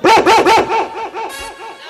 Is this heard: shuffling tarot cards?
no